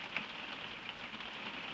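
Steady light rain patters on a surface in Spain, a faint, even hiss with occasional small drops, heard alone without voices.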